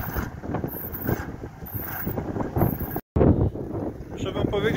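Strong gusts of wind roar and buffet around a small wind turbine being tested outdoors, with a continuous rushing noise and microphone wind rumble, a brief dropout, then more gusting.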